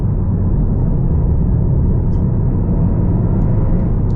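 A 2020 Honda Civic Si engine pulls in third gear along a canyon road, a loud, steady low drone with road rumble and no speech.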